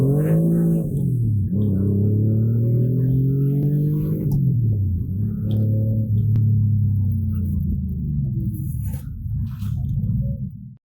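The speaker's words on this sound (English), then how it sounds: "Porsche 997 Twin Turbo." A 2007 Porsche 997 twin turbo with a Ruf conversion revs its engine, loud and close, with rising and falling pitch sweeps as the throttle is blipped and held before it cuts off.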